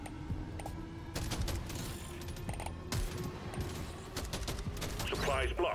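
Sniper rifle shots from the M1000 in the Deep Rock Galactic Survivor video game, sharp reports under continuous game music and effects, with a few distinct cracks spaced across the stretch.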